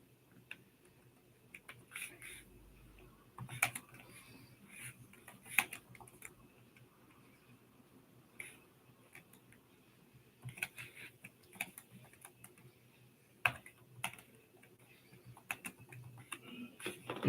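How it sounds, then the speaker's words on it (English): Sparse, faint clicks of typing on a computer keyboard in a quiet room, coming in short irregular bursts with pauses between them. "so I'll just type that in"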